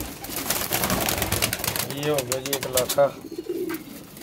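Pigeons coo in throaty repeated bursts amid a dense clutter of birds being handled for cargo shipment, with someone talking over the noise.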